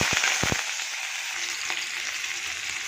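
Onion and bay leaves frying in hot oil, a dense close sizzle throughout, opening with a few sharp clinks of a spoon against the pan before settling into a steady crackle.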